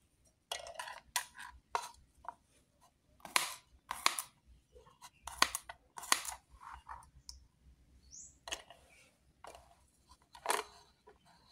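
Garlic and green chilies are chopped into small pieces with a knife on a cutting board for a green-chili pindang lodeh, making sharp, irregular close taps and clicks with short pauses and no talk.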